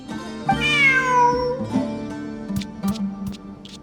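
A cat in the video game Genshin Impact meows in a long, rising-and-falling cry, followed by a few softer clicks and short bursts against a faint background hum.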